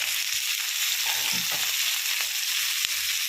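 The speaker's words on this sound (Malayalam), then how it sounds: "സവാള ഇങ്ങനെ നല്ല വഴറ്റി" Sliced onions and long beans sizzle and fry steadily in an oiled pan for a Kerala-style stir-fry, a loud continuous hiss with faint stirring scrapes.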